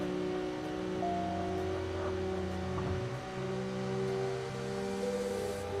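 In the Wangan Midnight racing game, a car rapidly closes in from behind, its engine droning in several sustained tones with steady loudness, accompanied by the player's own car engine.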